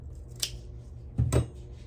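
Scissors snip through tassel thread in close-up, one sharp cut followed by a quick double snip, each brief and crisp in a quiet room.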